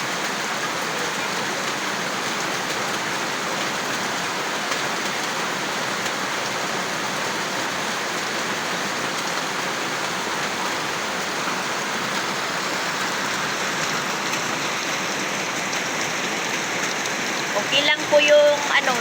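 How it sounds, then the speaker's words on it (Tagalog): Heavy rain pours down steadily as a dense, even hiss that stays loud and constant throughout, with a brief clatter near the end. "Lumakas po yung ulan."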